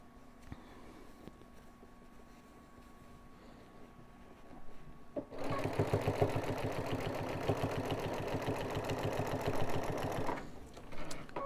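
Sewing machine stitching quilt binding through two layers of fabric: quiet room hum, then a fast rapid-fire run of needle strokes for about five seconds that stops abruptly near the end.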